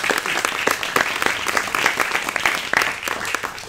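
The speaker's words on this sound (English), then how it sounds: "give a round of applause to all the Altspace people in here" An audience at a VR meetup breaks into steady, dense applause, many hands clapping together at a constant, fairly loud level throughout.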